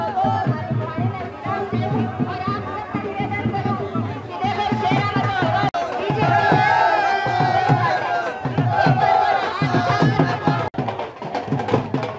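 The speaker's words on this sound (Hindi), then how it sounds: "देखिए सभा स्थली में जोरदार उत्साह, भीड़ यहाँ पर।" Large crowd at a political village rally in Dunkar, Rajasthan, a steady loud roar of cheering and excited babble throughout, swelling midway, with voices and shouts mixed in.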